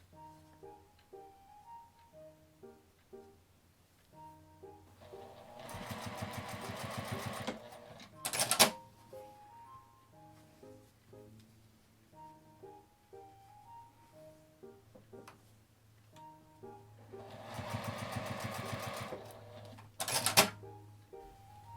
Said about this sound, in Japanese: 印をつけたところに端を合わせて5ミリくらいの縫い代で縫います